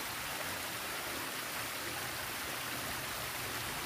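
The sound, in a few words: flowing stream water in a forest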